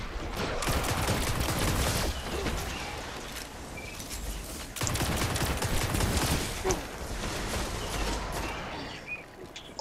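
Rapid sustained gunfire in the video game Destiny, dense bursts of automatic shots rattling nearly continuously, with brief lulls between volleys and no talk over them.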